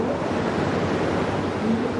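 Steady, full surf roar of ocean waves breaking during a professional surfing heat, a loud continuous wash with no voices over it.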